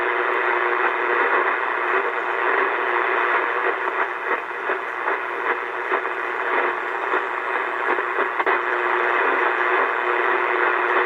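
Steady hissing AM static from an ICOM 720A HF ham transceiver, a continuous broadband wash of noise with faint crackles, even and constant throughout with no voices.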